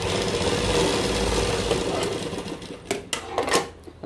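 A sewing machine stitches the neckline of a plain-fabric kurta, a close, steady mechanical whirring run that breaks into a few short clattering bursts as it stops.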